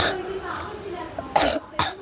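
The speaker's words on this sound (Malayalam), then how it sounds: "ചുമ" Two sharp coughs come close together near the end, following a moment of soft background noise and a faint voice.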